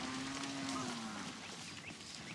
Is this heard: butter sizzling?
no